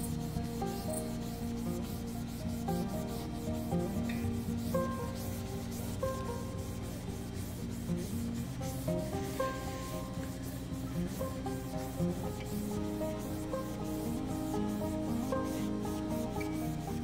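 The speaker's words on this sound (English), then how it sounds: "just a wet Magic Eraser and start scrubbing" A wet melamine eraser sponge scrubs the rubbery skin of an inflatable boat, a continuous close rubbing and squeaking that holds steady the whole time, with no voices.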